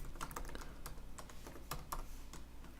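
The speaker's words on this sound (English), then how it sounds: "I'm going to just type this one in." Rapid typing on a computer keyboard while coding, a steady run of close, crisp key clicks with a few heavier strokes, no voice.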